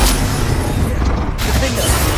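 A Bombarda blasting spell goes off in Hogwarts Legacy, a loud, dense crashing burst with rumbling low end that fills the whole moment and then drops to a rougher, duller rumble.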